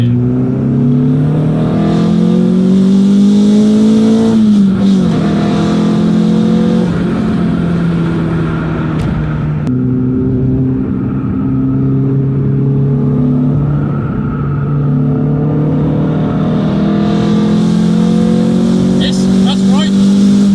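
A cammed Renault Clio 182 Trophy with headwork revs hard on the move, its engine note climbing and falling through gears loud and close, with a brief lift-off around midway and speech faintly present underneath.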